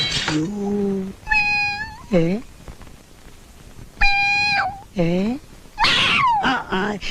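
A cat meows loudly and close by, giving several drawn-out, wavering meows with short pauses between them.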